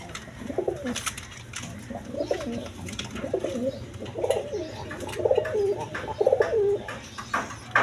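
Repeated soft, throaty cooing from Giribaj pigeons close by, several rolling calls in a steady rhythm with faint background noise.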